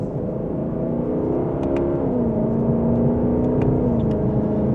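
A 2025 Lexus LC500 in second gear and Sport S Plus mode accelerating mildly, a steady engine drone with a slowly rising and then leveling tone heard from inside the cabin, continuous and moderately loud.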